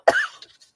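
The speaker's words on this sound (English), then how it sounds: "I really apologize about the coughing today" A single close cough from a woman crafting a junk journal at her table, one sharp burst that fades out, followed by a few faint soft sounds.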